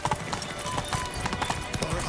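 A horse gallops with rapid, steady clip-clop hoofbeats in The Witcher 3: Blood and Wine, a video game, loud and close over a busy background of game ambience.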